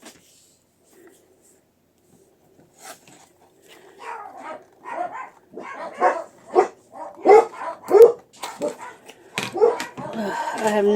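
Dogs barking indoors, starting faintly and growing into repeated close, sharp barks with some yips, mixed with a person talking in a workspace.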